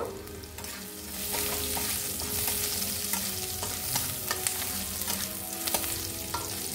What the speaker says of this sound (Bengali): এই দেখো রসুনটাকে ভালো করে ভেজে নেব, রসুনটা কাঁচা থাকলে হবে না কিন্তু।